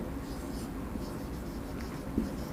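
Pen or chalk writing during a math lecture in a classroom, soft scratchy strokes close by over a low room hum, with brief faint scrapes and no clear talk.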